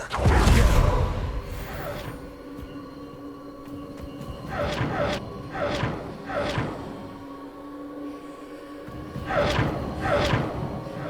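Spell-casting effects in the Hogwarts Legacy video game, including a Confringo cast: a heavy thump and several swooshing magical bursts spaced across the stretch, with game music underneath.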